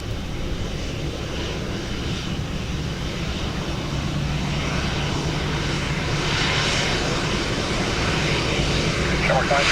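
Airplane jet engines roar steadily at Dublin Airport on a wet day, a broad continuous rumble at moderate distance that swells slightly toward the end, with faint voices underneath.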